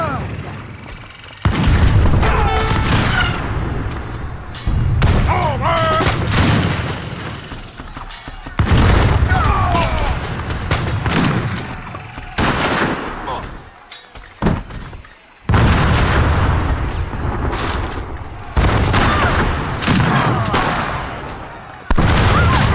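Hand mortars firing in the strategy game Age of Empires 3, Wars of Liberty mod, as repeated booming blasts and battle noise in a dense layered mix, with a commentator talking over them.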